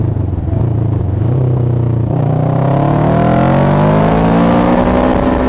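A motorbike engine held at high revs near the red line, loud and continuous, with pitch shifting and climbing as the rider shifts down.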